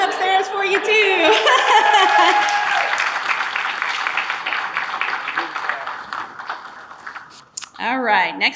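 Applause at a Williamson County emergency communications awards ceremony for the telecommunicator of the year, with cheering voices over the clapping at first, then steady clapping that fades before a voice speaks at the end.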